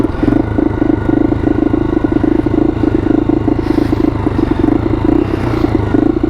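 A 1982 Honda XL250R motorcycle pulls off on its first ride in 15 years, choke still out, its single-cylinder engine thumping loud and close in a steady, even chug with no talk over it.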